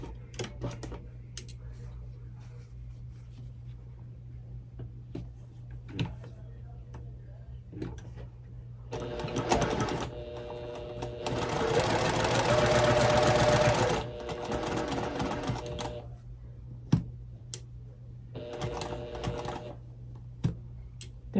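A sewing machine stitches a quilt block in short runs with a soft ticking hum, one longer steady burst in the middle, and quiet pauses and clicks between runs. A person talks at times.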